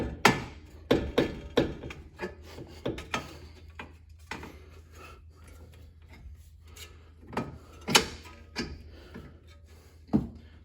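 Metal tool clanks and taps while an outer tie rod is reattached to the steering knuckle of a Ford Mustang, sharp irregular knocks and clinks up close with quiet gaps between them.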